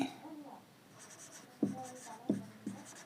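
A pen scratching across paper while a math problem is worked out, soft continuous strokes with a few firmer taps, under quiet speech.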